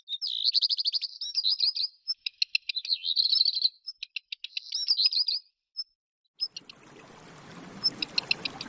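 A black redstart sings several quick, scratchy warbled phrases with short pauses, then a trickling water sound rises underneath as the singing continues faintly.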